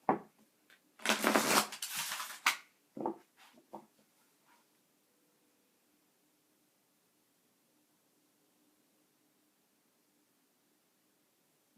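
Tarot cards shuffled by hand nearby in a few quick riffling bursts over the first few seconds, then near silence.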